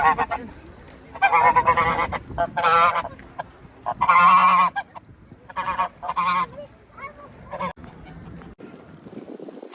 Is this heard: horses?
no